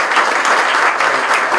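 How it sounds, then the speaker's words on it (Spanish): Audience at a town festival in Cascante applauds steadily and loudly, a dense crowd clapping with no voices over it. "Le pido un aplauso"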